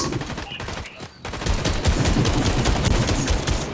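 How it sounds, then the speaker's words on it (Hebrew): Rapid gunfire crackles through a video game shooter, dense bursts of automatic shots following one another after a brief lull, loud and continuous. "אני 5 קילים, ויש פה יריות"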